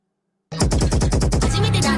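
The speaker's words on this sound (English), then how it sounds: "don't you have other sound effects besides this explosion in my ears?" Explosion sound effect played as a rapid, loud crackling barrage of bangs that starts abruptly after a short silence and keeps rattling like gunfire, with a voice faintly mixed in.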